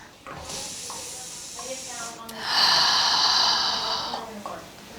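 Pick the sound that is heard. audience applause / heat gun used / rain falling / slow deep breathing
slow deep breathing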